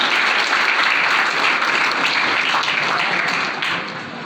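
Seated guests at an annual school results ceremony clap together, a loud, dense, sustained burst of many hands that holds steady and then tapers off toward the end.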